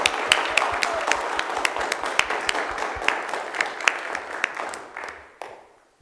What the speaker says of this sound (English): Will the audience please rise and give Eagle Scout Karina Davis a round of applause?